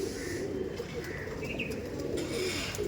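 Many pigeons in a loft coo together in a dense, steady chorus, a continuous low throaty murmur close by with no pauses and no voices.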